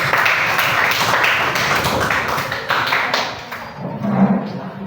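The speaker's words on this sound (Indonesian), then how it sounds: "Boleh berikan tepuk tangan dulu dong kelompok terakhir." Classmates applaud the final group presenting in a biology lesson, a dense burst of clapping that gradually thins out and fades, with a faint voice near the end.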